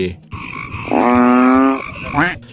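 A frog gives one loud, close, sustained croak, a buzzing rattle lasting nearly a second, with a shorter croak following.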